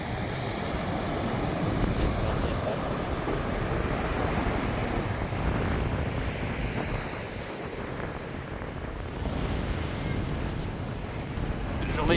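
Wind gusting across a wide beach at Povoa de Varzim buffets the microphone with a loud, rumbling roar, mixed with surf and broken by brief lulls, while someone speaks throughout.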